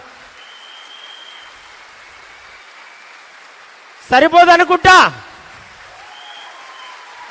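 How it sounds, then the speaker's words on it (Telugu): A short burst of audience applause, about a second long and loud, rises abruptly between quiet stretches of a speaker's voice at a gathering. "ఒక్కసారి మనస్ఫూర్తిగా మీ స్పాన్సర్కి క్లాప్స్ ద్వారా కృతజ్ఞతలు చెప్తాడవా?"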